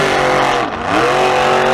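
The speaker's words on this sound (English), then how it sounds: "it kind of sounds like an engine. Like an engine like revving to the max, just like about to explode into a million pieces" A guitar distortion pedal of the grungy sort, played hard, gives a dense, loud, continuous roar like an engine revving flat out, with a brief dip in the middle before surging back.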